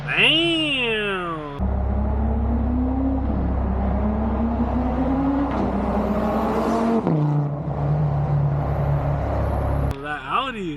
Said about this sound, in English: That Audi sounded nice.